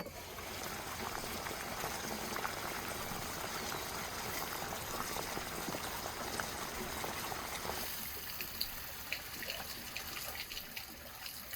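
Fresh onions rinsed under running water in a kitchen: a steady, even splashing and rushing of water runs the whole time at a fairly quiet, close level.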